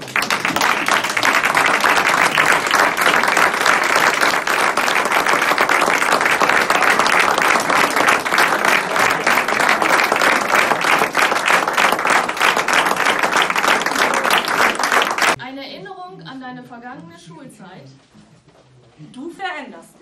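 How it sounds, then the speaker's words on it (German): A standing audience at a retirement farewell applauds loudly and steadily for about fifteen seconds in a thick wash of clapping, then the applause cuts off and a voice begins speaking. "Jetzt können wir aufstehen und einen kräftigen Applaus."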